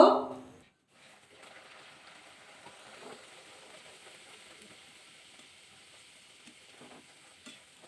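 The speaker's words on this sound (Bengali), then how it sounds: "বাকিগুলো ঠিক এবার ভাজা করে নেব" Peas kachori deep-fry in hot oil in a kadai, giving a faint, steady, continuous sizzle after a brief loud burst at the start.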